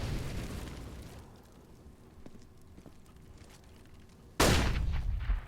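A flashbang grenade in CS:GO detonates with a sudden loud burst near the end, after a few seconds of low game ambience and faint clicks.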